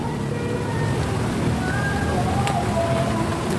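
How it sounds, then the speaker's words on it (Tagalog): Steady rain hisses outdoors in a forest clearing where a plump wild forest quail has just been caught, an even wash of close-by downpour with no clear individual drops. "Naabot na tayo ng ulan."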